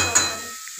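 Cauliflower and potato cooking in a home kitchen, a brief spoon scrape and clink against the pan over a short fading sizzle, close and fairly loud before trailing into near silence.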